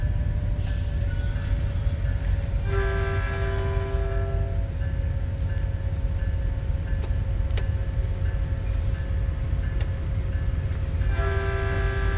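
A Metrolink F59PHR diesel locomotive runs in the Train Sim World 5 game on the Antelope Valley line, giving a steady low engine rumble with ticking and periodic tonal chimes or horn-like tones over it, with no talking.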